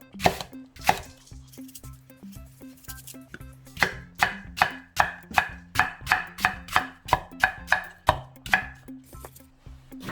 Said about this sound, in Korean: 이걸 믹서에 갈을 거니까 조금 잘게 잘라야겠어요